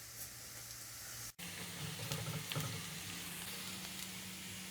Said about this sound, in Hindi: प्याज को हम गोल्डन कलर आने तक फ्राई कर लेंगे।